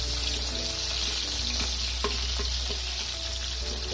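Chopped onion sizzles steadily in a hot pan for a Filipino chicken pastel sa gata, a dense, even crackle with occasional stirring clicks and no voices.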